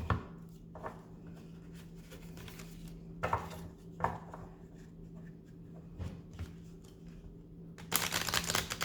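Faint, sparse taps and soft flicks of large oracle cards being handled and shuffled, ending in a brief burst of rapid riffling.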